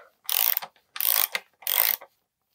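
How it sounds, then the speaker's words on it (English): A ratchet wrench tightening a SRAM DUB bicycle bottom bracket during a crank service, three short bursts of rapid clicking separated by pauses, close and fairly loud. "First we tie them down with the ratchet."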